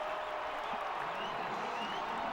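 Brazilian football fans in a stadium cheer after a goal against France, a distant, sustained crowd roar with scattered applause beneath an announcer's voice.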